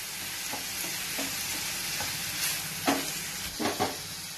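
Garlic chicken masala base sautéing in a hot pan, a continuous close sizzle broken by a few scraping stirs of the spoon toward the end, with no voices.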